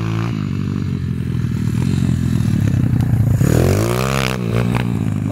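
A 140cc XL pit bike engine revs loudly and close, holding a rough, clattering idle before climbing in pitch through a couple of sharp throttle blips, with no voices over it.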